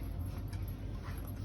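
A dog whimpers softly in a brief, faint burst of high, thin whining, heard alone indoors.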